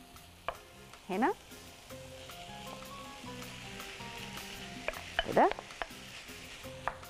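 Meat sizzling and sautéing in a hot cooking pot, with a steady frying hiss, occasional stirring scrapes and a few brief spoken words over it.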